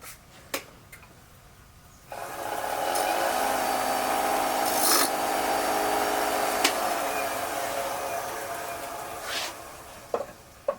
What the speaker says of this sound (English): At this point, I'm going to use sandpaper to turn it down a little bit more.